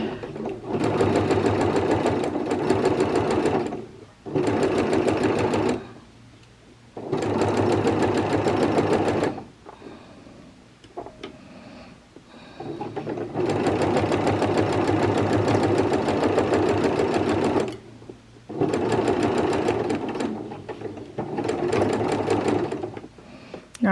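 A sewing machine stitching a McCalls 8385 garment runs in several long, loud, steady buzzing bursts, close by, separated by short pauses filled with faint handling noise.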